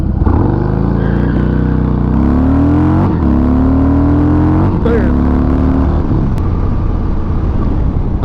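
A 2020 Harley-Davidson Fat Bob motorcycle accelerates hard from 0 to 60, its loud engine note climbing through several gear changes over about six seconds before easing off into a steady roar.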